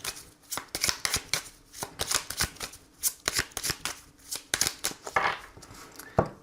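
Oracle cards being shuffled by hand, close and crisp, a quick series of sharp riffling snaps in an uneven rhythm, with no talking.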